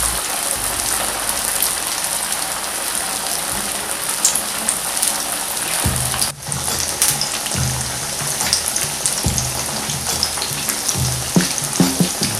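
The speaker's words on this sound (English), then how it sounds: "let's start frying it" Vegetable fritters frying in oil on low heat, a dense, even crackling sizzle close by that runs continuously, with a brief dip partway through and faint soft bumps of movement in the pan.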